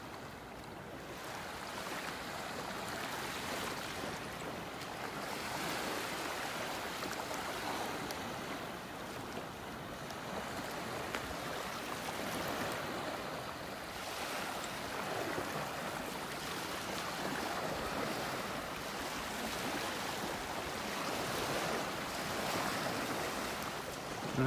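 Ocean waves breaking on a sandbar offshore from a calm beach in North Naples, Florida, producing a steady, broad wash of surf that rolls on continuously without a break and with no talk over it.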